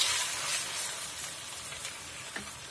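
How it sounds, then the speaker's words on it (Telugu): Gongura (sorrel) leaves fry and wilt in hot oil with a steady, bright sizzle, crackling close up, with a few small pops and stirring clicks near the end. "చూస్తున్నారా, అంతా కూడా నూనెలో వాడిపోతున్నది గోంగూర"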